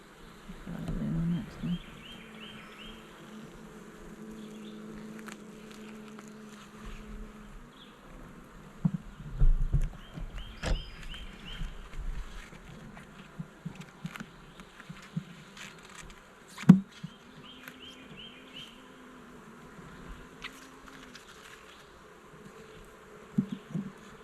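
Honey bees at a beehive during a first hive check, buzzing at a low, steady drone throughout, with occasional louder passes close by and a few scattered knocks and bumps.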